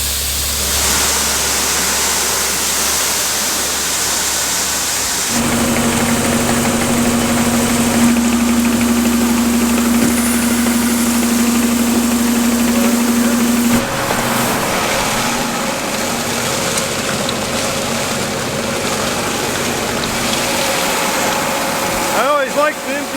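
A grain auger loading a little over 1,000 bushels runs with a steady mechanical drone and engine hum, its tone shifting in stages, while people talk over it.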